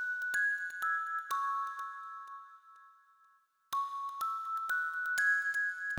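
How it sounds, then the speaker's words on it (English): Synthesized bells in a jazzy lo-fi house track ring in bright, sparse chimes whose volume swells and dips and whose position sweeps from left to right, dropping to near silence midway before returning. "The bells are automated in volume, but also automated from your left pan to your right pan."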